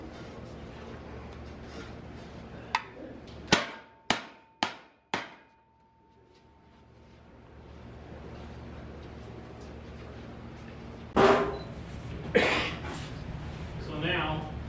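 A hammer strikes sheet metal during metal shaping, landing four or five sharp, ringing blows in quick succession, followed later by a couple of louder clanging hits against a background of room noise and faint talk.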